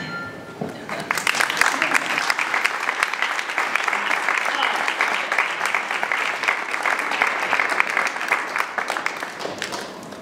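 A large audience applauds steadily after a music-industry talk in London, the dense clapping sustained and fairly loud for the full ten seconds with no voices over it.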